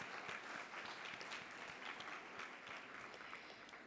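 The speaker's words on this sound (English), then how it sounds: "We give our sponsors a big round of applause" A conference audience in a hall gives a sustained round of applause, many hands clapping densely at moderate distance for several seconds without pause.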